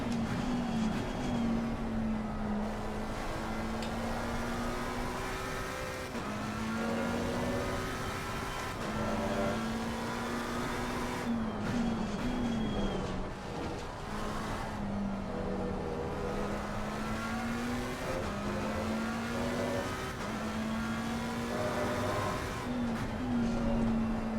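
A race car in a sim-racing test session for the RCI World Tour, the engine droning continuously as revs climb and drop repeatedly through upshifts and braking, steady and fairly quiet with no talking.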